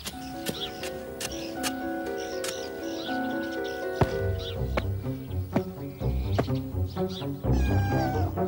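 A cat meows several times in a garden, mostly short calls heard under steady tonal music and light clicking, moderately near.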